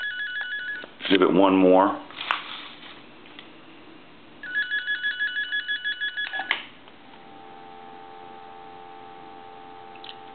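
An electronic ringer fitted inside a candlestick telephone trills in bursts of rapid warbling tones, sounding twice with a pause between, and a person speaks briefly between the rings.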